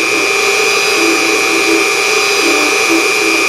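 A Unimat SL1000 mini lathe taper-turns 1144 steel, giving a loud, steady high-pitched motor whine with a constant cutting hiss, close and unbroken throughout.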